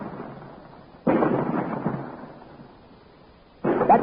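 A cannon-struck rock blows apart in a radio drama effect: two heavy, rumbling explosive bursts, the first sustained and decaying over more than two seconds, the second starting abruptly near the end, with no talk.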